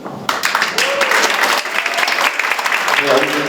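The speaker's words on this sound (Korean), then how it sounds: "짧지만 굉장히 임팩트 있는 박수가 끊이질 않는데" A crowd at a book talk concert bursts into sustained applause after a panel speaker finishes, loud and unbroken, with a few faint voices mixed in.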